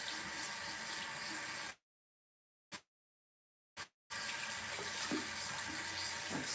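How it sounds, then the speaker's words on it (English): A tap runs steadily as a rag is rinsed beneath it, the water flow cutting off briefly with a couple of short splashes before resuming, fairly faint and with no talking. "I'm just going to kind of rinse my rag real quick."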